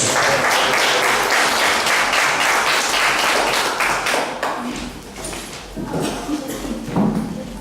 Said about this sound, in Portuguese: Louve o Senhor com suas palmas